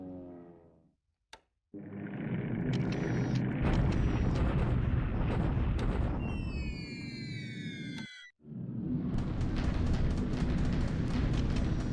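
Bombardment and bombing explosions rumble from the War in the Pacific strategy game, a dense continuous roar of blasts with brief drop-outs and a stretch of descending whistling tones midway.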